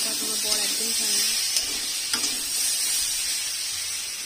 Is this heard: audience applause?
no